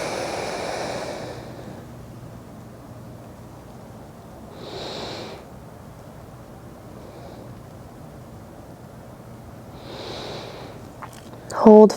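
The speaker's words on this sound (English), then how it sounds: "We have 30 seconds more of these deep breaths." Slow deep breaths during a yin yoga stretch, two soft airy exhales spaced several seconds apart, over quiet background hum.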